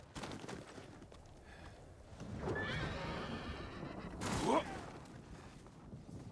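A horse in the samurai video game Ghost of Tsushima neighs twice over a background of hoof clatter and game ambience, the second whinny louder and nearer.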